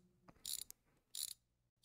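Ratcheting wrench at work on a TV set: three or four short bursts of quick, crisp ratchet clicks with pauses between, fairly quiet, and no voices.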